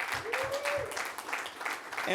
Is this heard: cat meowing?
no